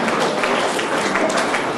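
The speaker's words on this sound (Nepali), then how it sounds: "हामी सम्मानित सबै स्रष्टा र संस्थालाई एक मुष्ट ताली बजाएर अब सबैलाई हामी बधाई दिन्छौँ" An audience claps steadily for writers and institutions being honoured at a literary award ceremony in Nepal, giving dense, continuous applause from many hands at a fairly loud, even level.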